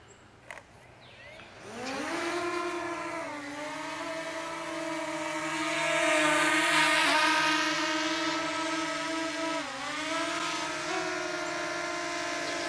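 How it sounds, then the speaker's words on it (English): Drone motors spin up with a rising whine, then hold a steady, loud multi-rotor buzz that shifts in pitch as the craft takes off and flies around outdoors near greenery. "The drone's working really great right now."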